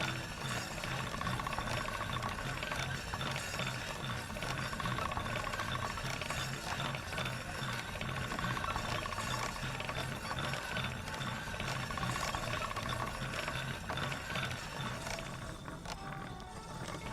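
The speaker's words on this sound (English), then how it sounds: "trigger to spin the grindstone" A grindstone spins steadily as a blade is sharpened in Kingdom Come, giving a continuous rattling, ratchety mechanical whir that stays even and loud with no talk.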